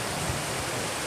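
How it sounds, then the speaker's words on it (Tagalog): A river in Liliw, Laguna, partly turned into a swimming pool: steady, broadband rushing water, close and uniform with no pauses. "Ito po yung ilog."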